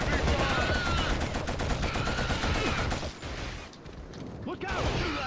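Dense gunfire from the video game Killzone on PS2, rapid automatic bursts and mechanical clatter filling the scene, loud and near, easing briefly before resuming, with voices shouting in the mix.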